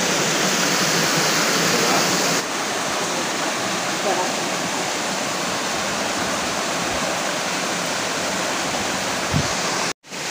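Clear stream water flowing near Siddhaganesh temple at Shirwande Bamniyewadi, a loud continuous rushing wash close by, steady throughout and ending with a brief sharp cutoff.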